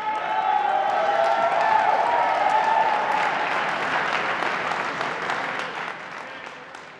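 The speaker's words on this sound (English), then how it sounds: "One more round of applause for your competitors." An arena crowd at a cadet boxing event applauds the competitors after a bout, with sustained dense clapping and some cheering that swells and then gradually fades.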